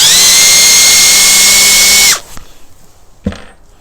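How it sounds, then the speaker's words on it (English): A power drill with a 3/16 bit bores straight into a malleable throttle stop on an 80cc motorized bike. It gives a loud, steady whine for about two seconds, then stops, and a single small clack follows. "Drill right in the middle of where that hole was."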